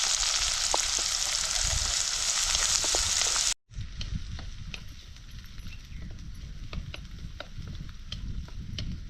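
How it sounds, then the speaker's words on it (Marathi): Onion sautéing in a pan for a sorghum-flour upma, a steady close sizzle with faint stirring clicks, the frying texture continuing after a brief drop to silence partway through. "त्याला थोडंसं गुलाबी होईपर्यंत परतून घ्यायचा"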